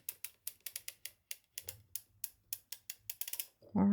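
A circular sock machine cranked around while knitting Kevlar yarn, giving a steady run of sharp mechanical clicks and ticks, about three to four per second. A louder low rumble at the very end cuts the run short.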